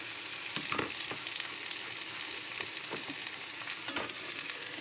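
Onion and capsicum fry in oil with beans and carrots, a soft, steady sizzle broken by a few scraping stirs of a spatula, with no voices.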